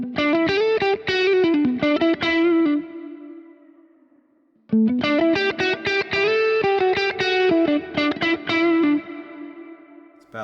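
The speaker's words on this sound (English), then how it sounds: "So of course this third pedal from the right is reverb mix" Clean electric guitar played through a Kemper Profiler pedal rig as the reverb mix is gradually raised, bright picked chords and melodic notes in two phrases separated by a ringing decay, increasingly washed in reverb.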